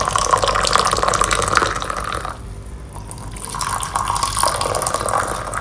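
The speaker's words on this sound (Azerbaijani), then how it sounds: "Demlenmiş çayımızı süzer." Freshly brewed tea is strained into a glass, a continuous close pouring trickle that pauses briefly in the middle and then resumes.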